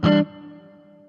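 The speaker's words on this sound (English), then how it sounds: "The reverb you're hearing comes from the Zoom MS-70 CDR." A short, bright electric guitar chord struck once through a Zoom MS-70 CDR reverb pedal, then a long reverberant tail that rings out and slowly fades.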